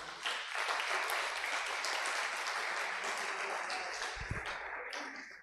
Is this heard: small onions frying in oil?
no